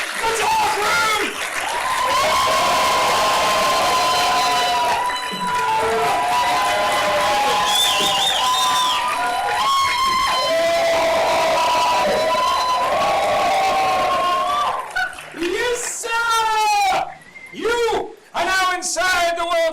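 An audience at a live event claps and cheers in a loud, sustained wave of applause and whoops, with voices shouting over it before the noise breaks up near the end.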